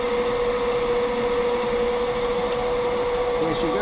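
Lathe parting-off tool cutting through a nut for a BSA Bantam part, a steady close machining whine and hum running continuously without a break.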